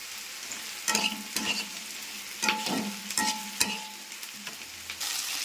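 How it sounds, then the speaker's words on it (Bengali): Garlic, green chilli and chopped tomato frying in a pan, with a steady sizzle broken by several sharp clattering stirs of a spatula, close and fairly loud, no voices. "দিয়ে এবার ভাজা ভাজা করবো"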